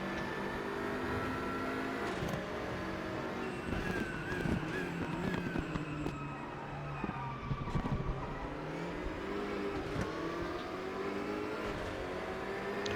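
GT3 race cars lapping Spa in the racing game RaceRoom, a continuous loud engine roar with rising and falling revs through gear changes and braking, other cars close by.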